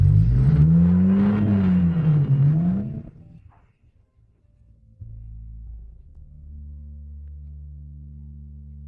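A sports car's engine revs loudly with a rising and falling whine, then cuts out briefly before settling into a low, steady idle hum.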